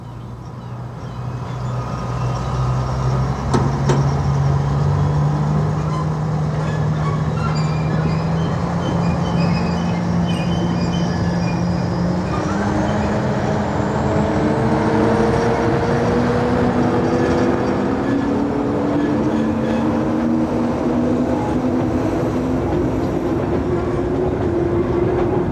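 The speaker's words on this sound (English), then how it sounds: "a Barclay shunter returns empty wagons to Westoe Colliery from Hilda sidings" A Barclay shunter locomotive hauls empty wagons back to Westoe Colliery in 1988. Its engine drones steadily close by, and the pitch rises gradually as it gathers speed, with wheel and wagon clatter underneath.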